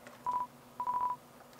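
A phone ringing in the video game Undertale, heard as two short electronic beeping tones with a brief gap between them, clear and close.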